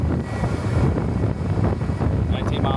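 Strong wind buffets the microphone in low, rumbling gusts during a golf cart top speed test, mixed with a motor hum and a few faint high whines.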